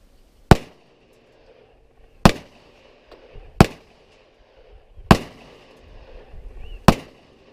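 Five sharp gunshots from a pistol firing handloaded rounds through a polished feed ramp, each a loud isolated crack spaced about a second and a half apart with brief echo between.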